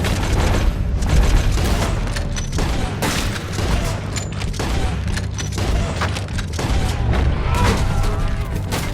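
Dense gunfire in the Red Dead Redemption 2 video game, with a steady stream of overlapping shots and booms continuing loud throughout over a rumbling battle background.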